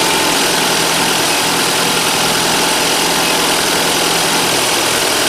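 A car engine idles steadily and loudly up close while warming up, a constant rumbling hum with no other sounds.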